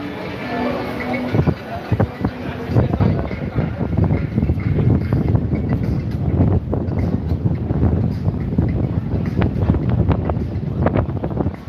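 Strong wind buffets the microphone on the seafront at Benidorm, a loud, continuous gusty roar with rumbling low end throughout, and a voice talks over it.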